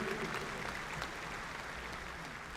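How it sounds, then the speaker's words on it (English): Steady, fairly faint clapping from an audience at a university commencement ceremony, a continuous wash of applause holding at an even level throughout. "That's a big round of applause for that."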